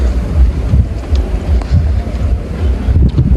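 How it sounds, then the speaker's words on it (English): Chilly outdoor wind blows steadily and loudly across the microphone, a continuous rough roar with gusty swells throughout and no voices. "I know y'all hear the wind."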